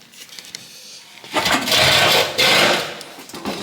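An old file with a sharpened edge scrapes a clamped steam engine bearing by hand, giving two sustained rasping strokes, loud and close, after a quieter lead-in.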